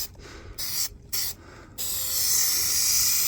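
Spray adhesive goes onto a sagging car headliner in bursts of close, loud hissing: several short sprays with gaps, then one long continuous pass.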